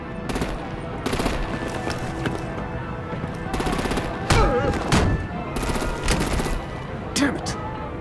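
Machine-gun fire in the game Batman: The Enemy Within: sustained loud automatic bursts with sharp louder shots. Shouted game dialogue is mixed through the chaotic firefight.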